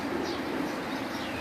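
Pigeons cooing softly on a rooftop loft, a low steady murmur of overlapping coos with faint chirps above, continuous and fairly distant across the whole moment.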